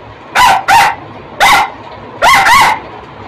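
Someone mimics a female dog with a string of short, yappy barks, two quick pairs around a single bark, loud and close.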